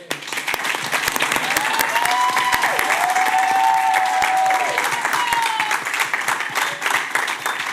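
Audience applause at a city commission meeting, steady clapping throughout with a voice calling out over it partway through.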